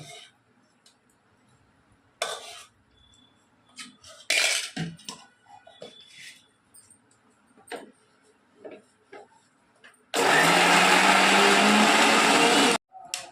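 Clinks and clatter of kitchen utensils, then a mixer grinder whirs loudly in one sustained burst of a few seconds, coarsely grinding mixture for mutton liver balls.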